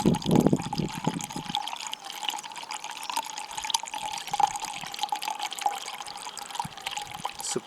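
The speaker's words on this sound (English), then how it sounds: "we need to top it back up to the maximum" Water poured from a container into a self-watering vegetable planter, a steady trickling and splashing fill that runs continuously at close range, with no talking.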